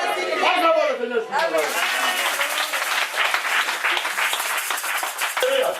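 A church congregation at a French-language worship service applauds steadily, dense clapping mixed with cheers and voices, while someone speaks and calls out over the crowd.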